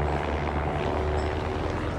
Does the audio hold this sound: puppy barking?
no